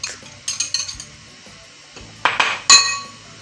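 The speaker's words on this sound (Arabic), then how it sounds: "هننزل ال4 عدد بيض" Four eggs go into a bowl for a baked cheese omelette, heard as a quick run of close clinks and taps against the bowl, then two louder knocks, with no talking.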